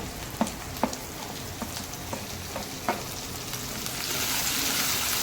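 Onions with rock salt frying in a pan for a restaurant-style egg gravy, steady sizzle broken by several sharp spatula taps and scrapes as they are stirred, the hiss swelling louder near the end.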